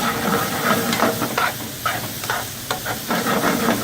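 Garlic sizzling in olive oil in a pan, a steady hiss and crackle with brief stirring scrapes, fairly close and continuous.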